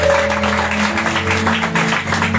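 A church congregation at the first Sunday worship service of 2024 cheers and applauds for Jesus, a dense, steady roar of crowd noise that fills the room over sustained musical tones.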